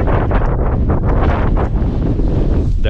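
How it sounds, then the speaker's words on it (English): Strong wind buffets the microphone on a motorcycle ride along gravel roads in Norway, a loud, constant roaring rumble that fills the whole stretch with no voice. "And what a wind!"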